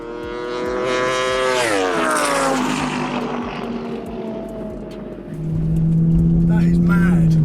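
A twin-turbo 800 hp Audi R8 and a 220 hp Aprilia RSV4 superbike in a roll race: a loud engine note rises steeply in pitch, fades off as the vehicles pull away, then a strong steady drone returns close by.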